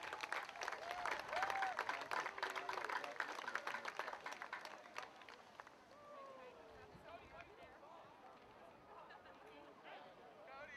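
Crowd applause and cheering at a high school varsity football senior ceremony fill the space, loud at first and then easing into a softer, steadier clapping with some voices mixed in.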